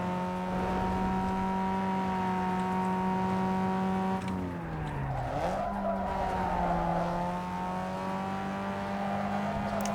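Race car engine droning steadily in Need for Speed Underground 2 Redux street racing, with a loud tire skid and a pitch dip midway before the engine resumes its sustained whine.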